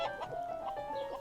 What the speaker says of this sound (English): The giggly farmer took us to see the chickens.